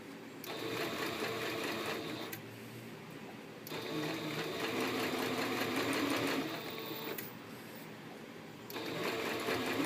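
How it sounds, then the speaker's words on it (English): A sewing machine stitches covered cording around a curved edge, whirring steadily in several runs separated by brief stops, fairly quiet and close. "I just very carefully sew around that curved edge."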